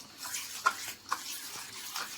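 A spoon stirs ragi batter thinned with water in a bowl, a soft, close, wet swishing with a couple of light clinks against the side.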